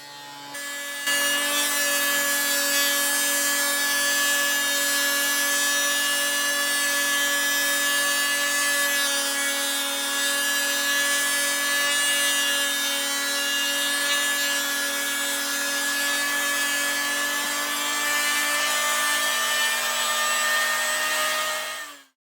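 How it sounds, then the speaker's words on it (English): Power planer shaving wooden staves for a sailboat whisker pole, a loud continuous whining drone with grinding wood texture, running steadily for over twenty seconds before cutting off abruptly. "the staves are run through the planer together to make sure they are all of uniform"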